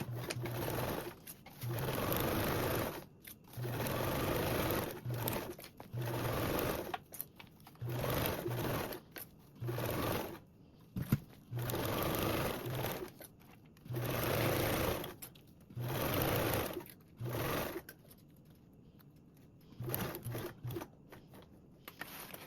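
A sewing machine runs a 1/4 inch seam along a duffle bag panel in about eight regular bursts separated by brief pauses, a close, steady mechanical whir with no voices.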